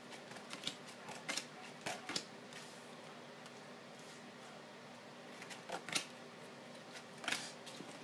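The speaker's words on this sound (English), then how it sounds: "Got the deck, pulling cards for you now." A deck of tarot cards is handled close up during a reading, with soft scattered flicks and snaps of cards being shuffled and drawn, in quiet bursts separated by brief pauses.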